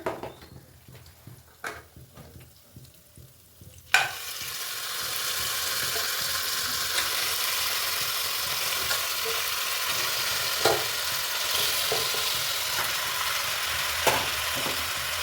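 A few light clanks of a pot are followed by a sudden loud sizzle as curry leaves drop into hot oil for mutton saaru, and the frying then hisses steadily with occasional pops and scrapes.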